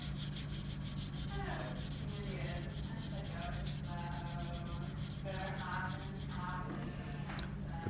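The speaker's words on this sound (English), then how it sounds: "The paint clogs up the sandpaper fairly quickly when you use very fine paper" Fine sandpaper rubbing over a painted part in a workshop, with close, steady rhythmic back-and-forth strokes.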